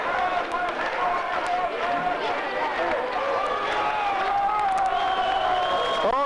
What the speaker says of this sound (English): they're cheering something